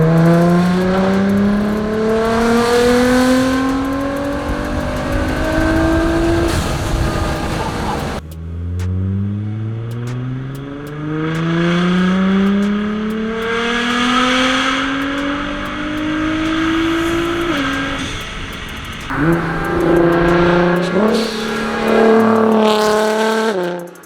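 A Nissan GT-R fitted with a Linney drag exhaust doing a low-boost third-gear pull: loud, close engine sweeps that climb in pitch, break off and climb again several times, with harsh crackling between the runs.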